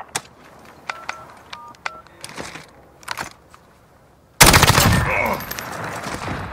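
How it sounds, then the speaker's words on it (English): A bomb is planted in a video game, with a series of short keypad beeps leading into a sudden loud, sustained burst of rapid gunfire-like noise. "Bomb has been planted."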